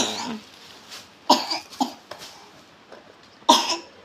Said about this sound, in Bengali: ওই যে কাশি হইতেছে দেখছো?